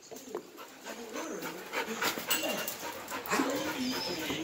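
A male dog in a kennel pants steadily and lets out soft whimpers, close and fairly loud, with kennel noise around and no talking.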